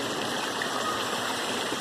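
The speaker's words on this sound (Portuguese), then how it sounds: "Descendo a água." Water flowing down a natural stream, heard as a soft, even rushing hiss that holds steady for the whole short moment with no voices.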